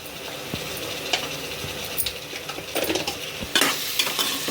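Curry ingredients for a goat head curry fry in a pan with turmeric, a steady sizzle broken by scraping and clinking spoon strokes as they are stirred, close and fairly loud.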